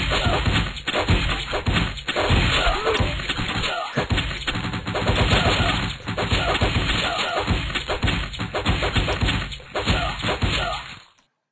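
Support troops in the Feudalism 2 flash game fire volleys as a dense, fast stream of loud cracks and thuds. The barrage runs almost unbroken, then cuts off abruptly at the end.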